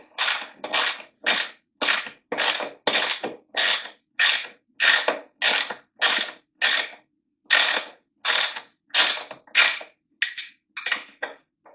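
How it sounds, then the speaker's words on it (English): A power tool removing bolts from the airbox of a Suzuki GSX750F motorcycle, about seventeen sharp, evenly spaced rattling bursts, each roughly half a second long, close and loud. "So I'm going to take in these 4 bolts out."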